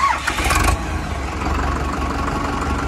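A DI 35 tractor's diesel engine cranks and catches in a loud, close burst, then settles into a steady low rumble at idle; no talking.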